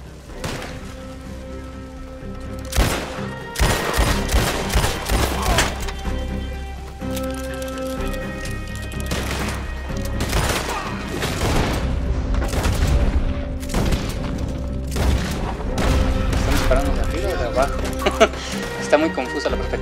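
Gunfire in the online western game Red Dead Online, with irregular close shots and booming blasts scattered across a steady ambient bed while someone talks over the action.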